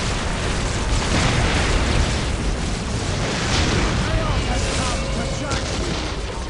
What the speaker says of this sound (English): Fire control! Initiate strafing run!